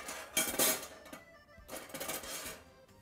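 A metal spoon scoops butter and spreads it into a dessert mould for helva, giving a few quiet clinks and scrapes against the dish in short bursts, with no talking.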